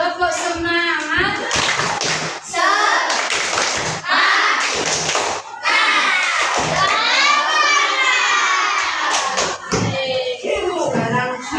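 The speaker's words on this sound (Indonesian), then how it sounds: "Coba tepuk semangat lagi. Tepuk semangat." Children in an Indonesian classroom perform a rhythmic spirit clap, with bursts of patterned hand claps alternating with loud chanted voices in unison, close and lively throughout.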